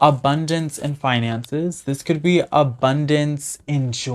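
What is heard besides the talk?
No distinct noise like a dog, phone or traffic.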